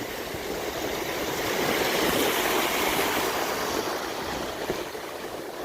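Rushing high water of a swollen stream flows loudly and steadily, a broad continuous wash of turbulent noise close by with no speech over it.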